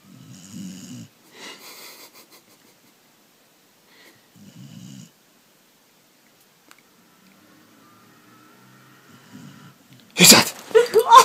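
A Golden Cocker Spaniel snores softly in a quiet room, with a few faint low breathy snores spread through the stretch, and a louder burst near the end as people start talking.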